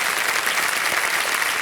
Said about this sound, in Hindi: तालियां बज जाएं सोनू भारती जी।